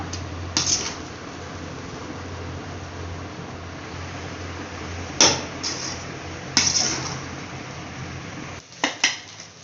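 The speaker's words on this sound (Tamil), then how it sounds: "இப்போ இது எல்லாமே நல்லா மிக்ஸ் பண்ணிக்கலாம்" Chicken rice with soya sauce being mixed in a pan, with a low background hum and several sharp metallic clinks and scrapes of a utensil against the pan, close and irregular.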